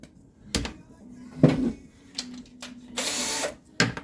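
A small drill bit bores holes into a tin can in short separate bursts, each a quick whirring buzz followed by pauses, close and moderately loud.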